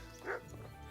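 In Kingdom Come: Deliverance, a dog gives a single short bark, faint and distant, over low background ambience.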